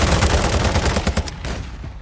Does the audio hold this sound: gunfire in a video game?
yes